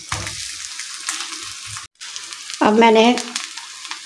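Homemade chicken patties sizzle steadily in a pan over medium heat, a close, continuous frying hiss while someone speaks briefly over it.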